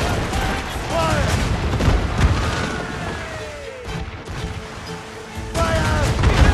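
Musket volleys crackle in Assassin's Creed Rogue during a battle on a wall, a dense, continuous layer of gunfire and booms heard under loud shouted commands from voices.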